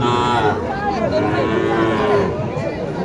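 A Sahiwal cow lows with a drawn, wavering moo at a crowded cattle market, heard amid surrounding voices and talking close by.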